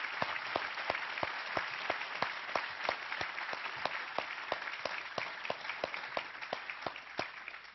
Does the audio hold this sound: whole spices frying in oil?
no